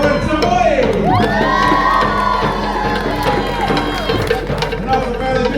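A crowd cheers, whoops and shouts loudly and continuously for a fire dancer at an outdoor evening show on International Drive, with children's voices mixed into the steady roar.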